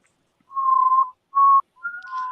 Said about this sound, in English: Not the whistle.